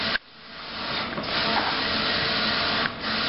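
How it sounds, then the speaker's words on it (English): Roland 54-inch eco solvent printer fed by a bulk ink system runs with a steady broad hiss and whir, broken by a brief dip near the start and another short change near the end. "We have set up this printer here with a bulk feed ink system."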